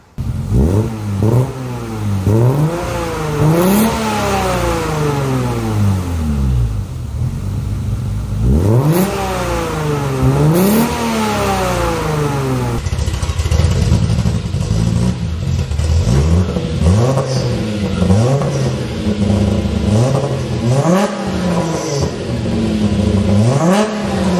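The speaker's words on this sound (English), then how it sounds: "here's some videos of the sweet sound of the Busto V6" An Alfa Romeo Milano's Busso V6 revs repeatedly, each blip rising and falling in sharp sweeps, loud and close, first in spaced bursts and then in a busier stretch of quick throttle stabs.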